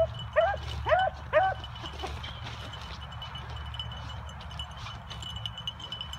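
A dog barks three times in quick succession early on, close and fairly loud, followed by quieter outdoor ambience with faint voices and a few distant yips on an icy day.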